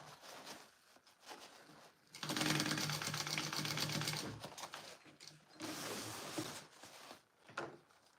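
Sewing machine stitching a tote bag, two sustained stretches of steady rapid whirring and needle clatter separated by a short stop, heard close up with no talking.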